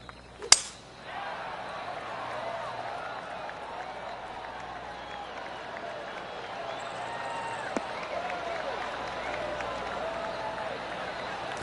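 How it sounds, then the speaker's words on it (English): Soft golf clap applause from a gallery crowd in the video game PGA 2K23, a steady low patter of clapping following a sharp club strike at the start, rising slightly toward the end. "Oh, golf clap. That's a beauty."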